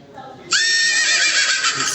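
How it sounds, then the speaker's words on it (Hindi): A horse whinnies once, loud and close, rising sharply and holding as a long bright neigh that fills the second half, following a short quiet lead-in. "हॉर्स यानी कि घोड़ा"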